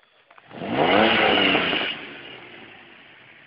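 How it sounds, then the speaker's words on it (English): A Holden Commodore VS V6 with a full twin exhaust revs once, the engine note rising and holding for about a second before dropping back to a steady idle, heard alone and fairly close. "Give it a rev."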